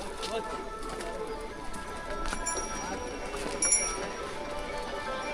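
Horses plodding on the mountain trek to Yamunotri, a steady clip-clop of hooves amid a busy outdoor hubbub, with birds chirping and people talking nearby throughout.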